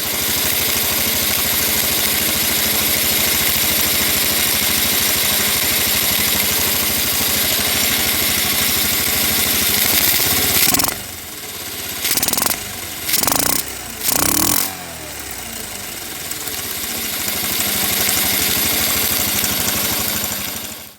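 A Honda CT110 motorcycle engine idles steadily up close after a restart, a continuous buzzy chug that breaks into several short stuttering cut-outs and catches before settling back into a smooth idle.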